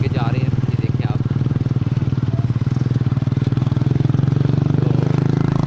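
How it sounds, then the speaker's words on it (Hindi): Several motorcycles riding through a jungle, a loud, steady engine drone with a fast rhythmic pulse throughout, while someone talks over it. "ये हमारी बाइक है, 4-5 मोटरसाइकिल हैं आगे जा रहे हैं"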